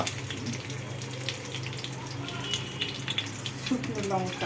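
Bay leaf crackles in hot oil in a wok, giving a steady close sizzle with scattered sharp pops, and a voice speaks briefly over it.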